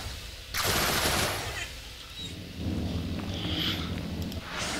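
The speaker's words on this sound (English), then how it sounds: "Frag grenade with my carbine burst." Frag grenade blast followed by carbine burst fire in a sci-fi combat game, with a loud explosive crack, then a rumbling sustained fusillade of shots over a low roar.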